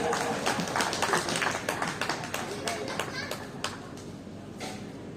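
Audience applause at a children's play event in India, a dense spread of many hands clapping steadily for about five seconds, moderately loud with faint crowd voices mixed in.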